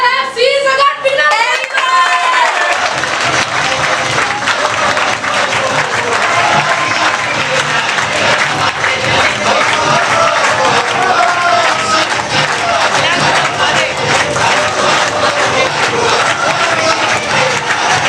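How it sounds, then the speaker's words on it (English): A large indoor audience at a talent show breaks into loud, sustained applause with scattered cheers and whoops, dense clapping rolling on for many seconds close to the microphone, with a voice briefly audible at the start. "big round of applause, come on!"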